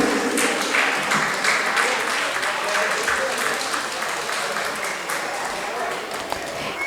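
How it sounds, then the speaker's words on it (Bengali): An audience claps at a yoga festival inauguration ceremony, a continuous even wash of many hands that holds steady for several seconds before thinning slightly near the end. "আপনারা সকলে একটু জোরে করতালি দেবেন।"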